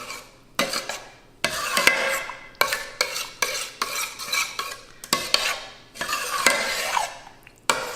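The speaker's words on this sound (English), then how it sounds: "Stir that up and we'll give it another taste." A spoon stirs roasted butternut squash soup with apple cider vinegar in a pot, in repeated close, scraping strokes with clinks against the metal and a faint simmering sizzle between them.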